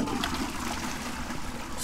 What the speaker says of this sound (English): Eggs in the toilet. Flush.